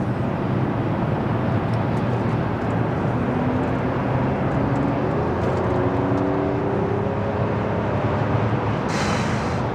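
BMW V12 car accelerating hard along a dual carriageway, heard from inside as a steady loud engine and road roar with rising tonal whine, without talk.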